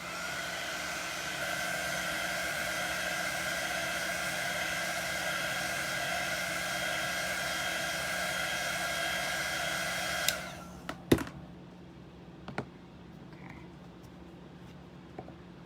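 Hair dryer blowing steadily to dry chalk paste paint, a constant close whooshing drone for about ten seconds before it clicks off, followed by a few small handling knocks.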